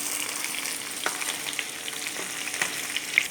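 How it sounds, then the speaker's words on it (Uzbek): Onions fry in a pan with a continuous soft sizzle, and a few faint stirring clicks come through now and then. "Mana biroz piyozni qovurib olgandan so'ng bolgarskda qovurib olamiz."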